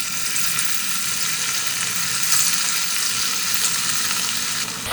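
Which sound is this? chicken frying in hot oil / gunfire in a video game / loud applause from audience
chicken frying in hot oil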